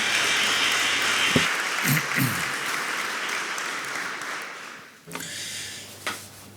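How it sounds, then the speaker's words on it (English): Applause from the audience at a Berlin Energy Transition Dialogue opening ceremony, a broad hiss of clapping that fills the stretch and fades out, with brief speech sounds over it. "Yes, it's your applause."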